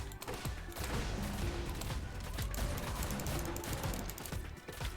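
Weapon gunfire in the dinosaur shooter Primal Carnage Extinction, a rapid, continuous burst of shots in fairly quiet, dense succession over several seconds.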